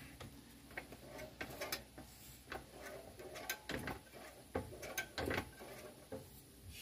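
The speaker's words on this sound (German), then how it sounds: "Ich verbiege die ganze Zeit nur die Ratsche." Ratchet wrench clicking while working on a corroded VW Golf in a tight space, irregular bursts of faint metallic ticks and clacks with small knocks between them, close by and without talk.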